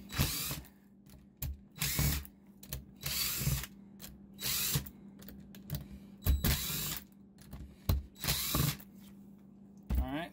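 A power tool backs off E10 bolts on the differential of a Honda TRX300FW ATV: repeated short whirring impact bursts, each a second or so, separated by brief pauses, close and loud with no talk.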